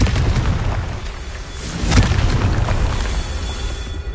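The Confringo fire spell in Hogwarts Legacy sets off loud, booming explosions with a deep rumbling roar and a sharper blast midway, all without speech.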